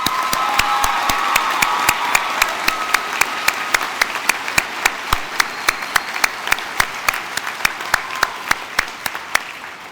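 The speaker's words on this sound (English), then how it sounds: "Please give them a round of applause." An audience claps for law school graduates at a graduation ceremony, with dense, sustained applause and a few sharp, close hand claps standing out in a regular beat across the whole stretch.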